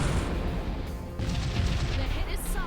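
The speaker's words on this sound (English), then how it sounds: "let's hit it with the cannons" Spaceship cannons fire in the space strategy game Sunrider: Mask of Arcadius, a dense run of booming, crashing shots that continues for nearly three seconds at steady loudness.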